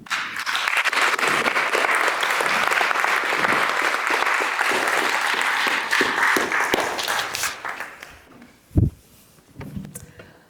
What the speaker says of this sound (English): they all deserve another round of applause